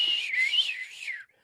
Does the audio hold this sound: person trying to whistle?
yes